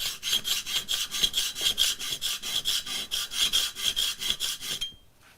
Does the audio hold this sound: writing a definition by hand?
no